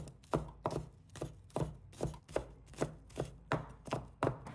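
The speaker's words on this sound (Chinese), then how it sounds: "先将它拍碎， 然后切成蒜末" A knife chops crushed garlic into mince on a cutting board, a brisk series of about a dozen sharp, evenly spaced knocks, close and clear with nothing else audible.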